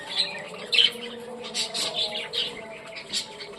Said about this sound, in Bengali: স্প্যাঙ্গেল রেনবো বাজিকার পাখি